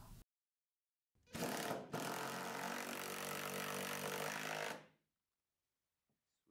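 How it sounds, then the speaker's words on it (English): An impact gun with a half-inch socket drives lag bolts through pilot holes into a roof rafter, one loud, close, sustained burst of rattling hammering lasting about three and a half seconds, then silence. "With a half inch socket on an impact gun, drive the lag bolts through the pilot holes and into the rafter."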